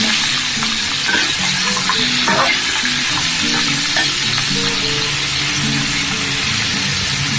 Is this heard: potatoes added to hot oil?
yes